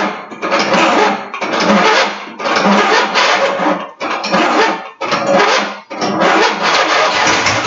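An offroad tractor engine running on one carburetor cranks loudly in six long, even bursts separated by brief pauses, sputtering and churning as it tries to catch.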